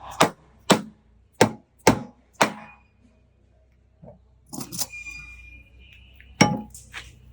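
A center support is tapped into a Marlon Xplore Pro III sled deck with five sharp, evenly spaced knocks. A few softer clunks and a metallic clink follow, all close by.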